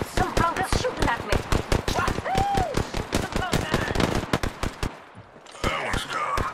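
Rapid automatic gunfire from the video game Apex Legends crackles in tight, loud bursts, with sharp shots repeating almost without pause, a brief lull near the end, then more firing.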